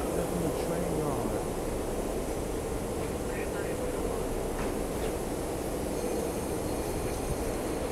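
A low, continuous rumble of SEPTA regional rail cars rolls through a rail yard, with faint squeals of wheels on track rising briefly over the din.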